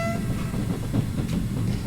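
A train rolls in within the Trans-Siberian Railway Simulator video game, a heavy low rumble with rhythmic wheel clatter and a brief tonal horn-like whine at the start, steady and fairly close.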